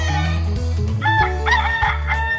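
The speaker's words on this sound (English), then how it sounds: "And the rooster." A rooster crow from a Playmobil toy farm set rings out as a loud, tonal call with a rising then sustained shape over a steady low musical backing, lasting about two seconds.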